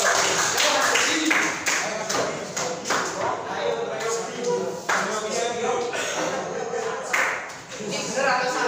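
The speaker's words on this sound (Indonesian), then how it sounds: "tepuk tangan" Pupils clapping in a classroom during a lesson, uneven bursts of claps and taps mixed with thumps and shuffling, while a teacher and children talk over it throughout.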